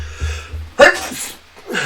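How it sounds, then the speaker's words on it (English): A single sharp sneeze bursts out after a quiet breathy lead-in, followed by a short exhale. "I'm going to sneeze again."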